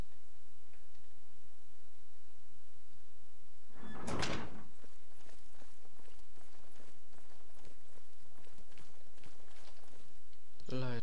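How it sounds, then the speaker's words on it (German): A door in the video game Oblivion opens with one sharp, loud burst partway through, surrounded by quieter game ambience and faint footstep-like ticks, with speech around it. "Durch eine Tür."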